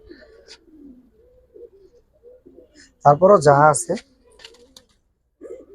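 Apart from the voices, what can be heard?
Giribaz pigeons cooing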